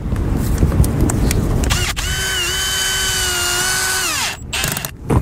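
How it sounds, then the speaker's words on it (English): A power drill drives a screw through two overlapping metal roof plates during a leak repair, a loud close steady whine lasting about two and a half seconds, then winding down, with clicks and handling noise before and after. "I'm going to screw down the two metal plates together"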